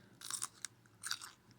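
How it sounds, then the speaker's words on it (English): Close, quiet crunching of popcorn being chewed comes in a few short bursts with small pauses between bites, nothing else heard. "So I'm eating popcorn"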